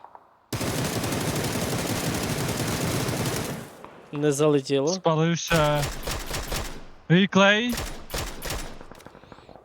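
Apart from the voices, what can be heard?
gunfire in a video game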